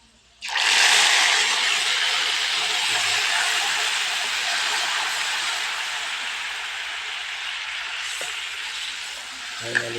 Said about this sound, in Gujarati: આપણે હવે કરી દઈએ વઘાર।